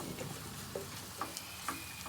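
Egg fries in oil with ridge gourd in a pan, giving a quiet, steady sizzle with small pops and faint stirring clicks scattered through, no voices.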